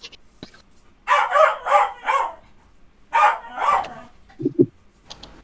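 An upset puppy barks in two bursts of high, yappy barks, followed by a couple of short whimpering yips, close and fairly loud with quiet gaps between.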